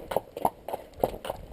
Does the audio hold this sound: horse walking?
yes